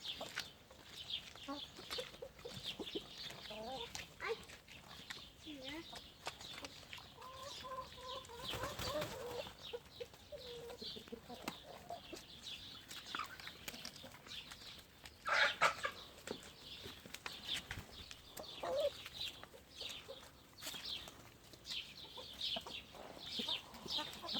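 Chickens and roosters cluck and murmur continuously at a moderate distance while being fed greens, with occasional louder squawks and rustling movement around them.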